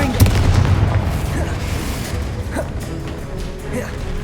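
Confringo blasting spell going off in the Hogwarts Legacy video game: a loud, rumbling boom with crackling debris, sustained and dense, with faint voice-like tones woven through the game mix.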